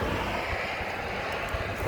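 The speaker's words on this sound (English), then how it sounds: "Sorry for the noise with the vehicles going by," Steady traffic rumble from vehicles passing on a nearby road beside a tree outdoors, a continuous broadband roar with no speech over it.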